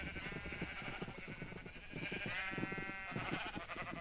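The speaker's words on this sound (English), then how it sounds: "Just gonna grab as many sheep as we can and we'll recolor them as needed." Sheep bleat repeatedly in a video game while players round up the flock in a basement build, a busy overlapping chorus of short cries running without pause.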